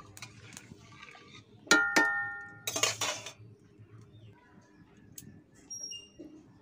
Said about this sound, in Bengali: দিয়ে একটু খুন্তি দিয়ে ভালো করে নেড়ে দেব।